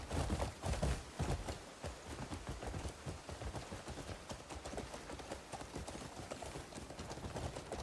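Horse hooves clip-clop at a steady trotting pace in the video game Crimson Desert, a close, dense run of hoofbeats with faint voices underneath.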